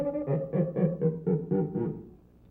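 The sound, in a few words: cuica friction drum, stick rubbed with wet cloth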